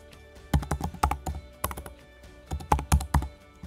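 Typing Python code on a computer keyboard, with close, clear keystrokes in quick irregular bursts and a short pause midway, no talking.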